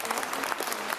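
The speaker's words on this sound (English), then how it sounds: "John Swinney wants to get applause from the clapping seals behind him for record drug deaths in Scotland." Applause from members in the Scottish Parliament chamber during First Minister's Questions, a dense steady burst of many hands clapping, loud and continuous.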